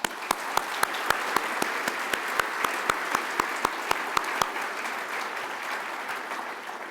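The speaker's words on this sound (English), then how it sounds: "Let us join with an applause." An audience at a meeting applauds, a dense, even wash of clapping from many hands that holds steady before thinning slightly toward the end, with a few louder close claps standing out in a regular rhythm.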